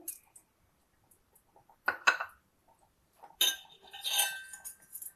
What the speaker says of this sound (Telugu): ఇది బాగా కాగిన తర్వాత జీడిపప్పు వేస్తున్నానండి.